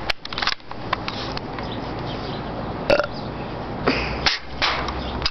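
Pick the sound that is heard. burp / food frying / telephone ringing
burp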